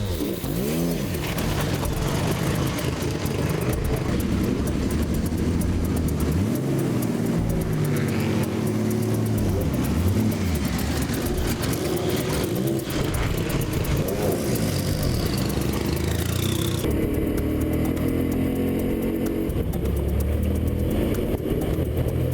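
A Porsche 962 race car drives hard around a track in Australia, its engine roaring loud and continuous with rising and falling revs through gear changes for the whole stretch.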